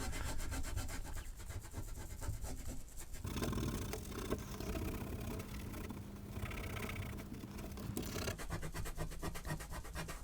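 Soaked plastic case parts from a Commodore Plus/4 computer are wiped and rubbed clean close up, giving steady scratchy scrubbing strokes with short pauses, fairly quiet, with no voices.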